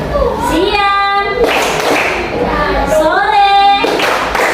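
A class of children clapping a rhythmic pattern in a classroom lesson; short bursts of group claps come in bursts between a teacher's sung or spoken cues, with voices over and around them.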